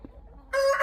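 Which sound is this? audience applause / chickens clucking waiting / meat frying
chickens clucking waiting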